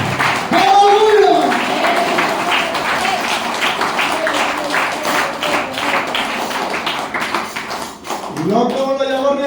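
A church congregation claps hands in a quick, steady rhythm, many hands together at close range, while a voice speaks and sings over the clapping.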